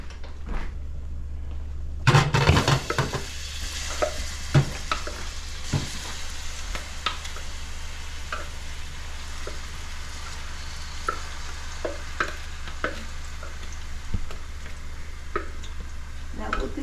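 Onions sautéing in a pan, a steady low sizzle with scattered clinks and scrapes of stirring, moderately near and continuous without talk.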